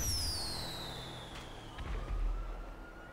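A fireworks fountain goes off in GTA V Online during the Independence Day update, with loud descending whistles over a crackling, rumbling burst, close and continuous throughout.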